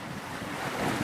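Ocean waves and steady wind at sea around a self-propelled barge, a continuous loud wash of surf and wind noise buffeting the microphone, with no talk.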